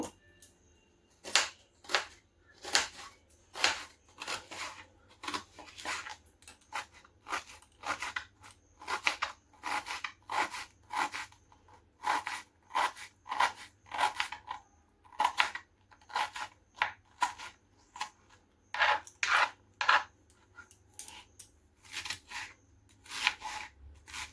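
Two onions are cut into pieces with a quick, regular series of crisp cutting clicks in bursts, close and fairly quiet, without talking.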